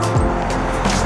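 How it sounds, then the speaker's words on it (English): Road traffic rumbles steadily with a car passing close and loud, a broad continuous noise with no speech over it. "Sorry about the traffic noise"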